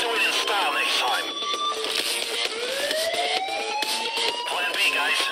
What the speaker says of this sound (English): The alarm went off.